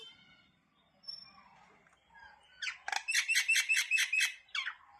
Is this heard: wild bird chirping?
yes